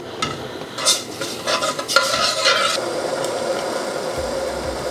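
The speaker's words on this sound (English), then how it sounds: "I'm going to bring that up to a slow simmer, and then I'm going to let it caramelise over the next 10 minutes over a gentle heat." Sugar syrup simmering and caramelising in a pan over gentle heat: soft bubbling and sizzling with a few scraping, stirring strokes early on, then a calmer, steady simmer.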